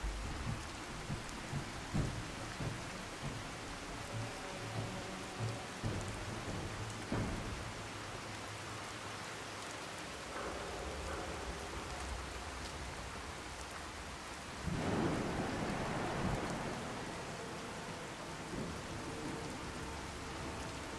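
In Fallout 4, a steady downpour hisses on and on, broken by low thunder rumbles. A louder, longer roll of thunder swells about two-thirds of the way through before the rain settles back.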